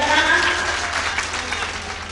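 An audience at an All India Mushaira poetry gathering in Biswan claps together, a dense, steady wash of applause filling the whole moment without a break.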